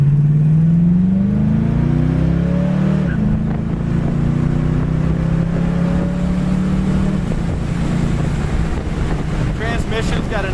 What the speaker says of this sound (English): This thing, you kick it down, squeals the tires as it shifts.